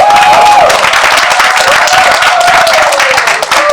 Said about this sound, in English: Yeah, I'm waiting for the applause.